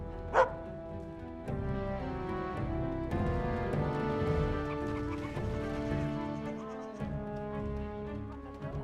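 A dog barks once, sharp and close, in the Dragon Age: Origins video game, then a sustained orchestral music bed runs on beneath it.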